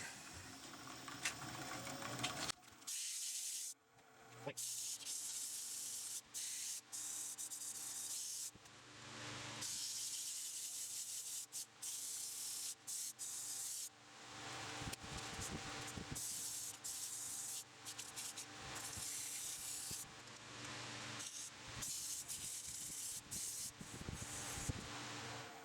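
Sanding the inside of a walnut box lid produces a long stretch of faint, hissing abrasive rubbing with brief pauses and shifts in intensity, heard alone without talk.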